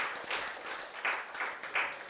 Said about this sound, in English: So round of applause for Steph